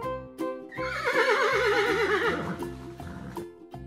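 Young singers in a classroom imitate a horse's neigh, their wavering whinny-like voices overlapping in one loud, close, sustained burst.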